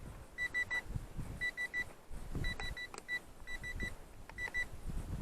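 Short electronic beeps from an RC plane radio transmitter in quick groups of three or four, repeating several times over gusty wind noise outdoors.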